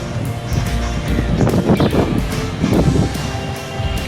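Steady, fairly loud sea breeze on the coast at Digha, beside a casuarina grove, buffets the microphone with a low rumble and gusty roar, no one speaking.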